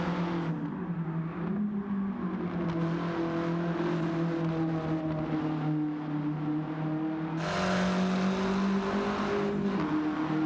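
A Volkswagen Golf GTI engine in Gran Turismo 7 drones loudly and continuously at high revs around the Tsukuba circuit, dipping briefly on a shift into second and then pulling hard again.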